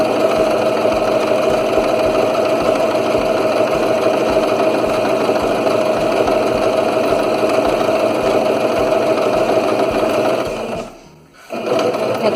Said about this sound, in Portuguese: E aí eu sigo costurando.